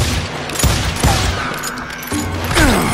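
Gunshots in the western video game Call of Juarez Gunslinger: a few loud, sharp cracks spaced across a few seconds, each with a booming tail and ringing echoes.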